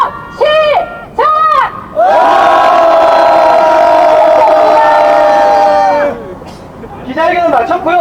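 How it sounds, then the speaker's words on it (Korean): A protest crowd gives a long, loud unified roar against ocean discharge, lasting several seconds, framed by shorter shouted chants before and after. "자, 기시다가 들릴 수 있도록 해양 방출 반대하는 목소리를 담아 함성"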